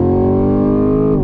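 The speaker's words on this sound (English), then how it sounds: "We do have it in sport mode, of course, and we're gonna go on throttle." A 2022 Chevy Camaro SS in sport mode at full throttle, a brief loud, steady engine drone whose pitch holds then drops as a gear change begins.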